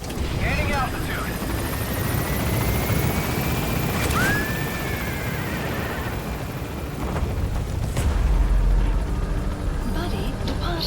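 Helicopter lifting off from a landing zone in the video game Metal Gear Solid V, a loud continuous rotor and engine roar that holds steady throughout, with faint radio-style game sounds and voices in the background.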